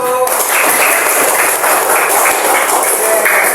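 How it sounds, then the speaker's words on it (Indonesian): Classroom applause for a student group after their presentation in an open teaching session, a steady dense patter of many hands clapping throughout, fairly loud and continuous. "Tepuk tangan untuk kelompok 1."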